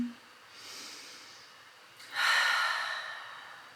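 Deep, soft breaths during a live yoga class: a slow airy inhale followed by a longer, stronger exhale, close and alone.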